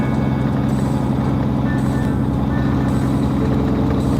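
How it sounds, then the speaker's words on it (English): A loud truck engine fitted with a bigger exhaust tip drones steadily and close, a deep continuous rumble that holds without a break and has no talk over it. "This truck's loud."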